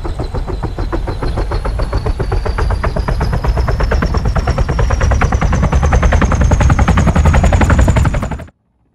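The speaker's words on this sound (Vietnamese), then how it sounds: "Bây giờ mình sẽ cho trực thăng cất cánh để tuần tra bảo vệ căn cứ." An Mi-28 attack helicopter takes off in the video game ARMA 3, its rotor chopping in a loud, rapid, steady beat over a deep engine roar and turbine whine, close and constant until it cuts off abruptly.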